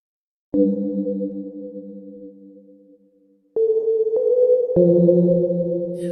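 Soft bell-like chords from an Ableton Operator bell pad sustain and fade, followed by a brief pause and new bright tones entering in steps, clean and alone.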